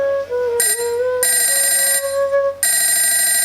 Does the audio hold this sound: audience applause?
no